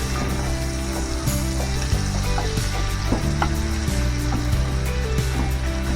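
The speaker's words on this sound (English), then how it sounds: "We're going to continue to brown our sausage up, break it down." Sausage browns in a pan with a loud, continuous sizzle and crackle, broken by scraping and stirring knocks as the meat is broken up, close and without talk.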